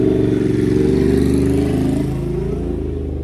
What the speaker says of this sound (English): There's a motorcycle, so we'll wait till that passes.